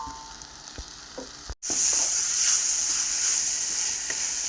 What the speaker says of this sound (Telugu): మెంతికూర కూడా బాగా కలుపుకుందాం.